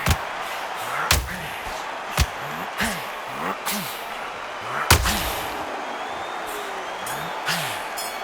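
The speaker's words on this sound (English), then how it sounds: "They exchange punches." Punches exchanged in a boxing video game, irregular sharp impact thuds, about a dozen over eight seconds, over arena crowd noise.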